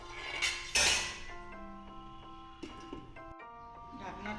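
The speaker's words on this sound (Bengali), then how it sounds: "ঢাকনাটা তুলে নেব।" Metal lid lifted off a cooking pot of simmering fish curry, bright clanks and ringing clinks followed by lighter metallic taps, with a voice speaking over parts of it.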